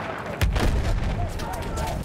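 Two heavy booms of a tank firing ring out amid the din of a video game battle, with some voices in the mix.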